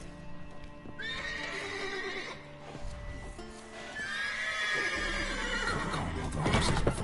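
Horses whinny in The Witcher 3, two drawn-out neighs over a steady ambient game backdrop with light hoof shuffling, fairly close and moderately loud.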